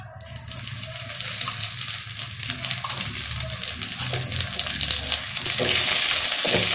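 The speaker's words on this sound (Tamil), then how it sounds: "எண்ணெய் நல்லா வறுத்துக்கலாம், நல்லா வதங்கணும்." Curry leaves fry in hot oil for a curry-leaf tamarind curry, making a steady, dense sizzle that stays close and loud throughout and swells louder near the end, with no talking.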